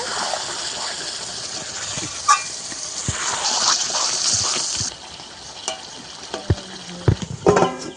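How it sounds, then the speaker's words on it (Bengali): Chicken sautéing in oil in a pan, a steady sizzle with spoon stirring and scraping, then quieter frying broken by sharp knocks and clinks against the pan. "এবারে শুধু এগুলো কষাবো ভালোভাবে মাংসটাকে তেল ছেড়ে গেছে"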